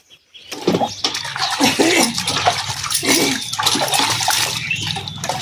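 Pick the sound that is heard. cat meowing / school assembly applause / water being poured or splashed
water being poured or splashed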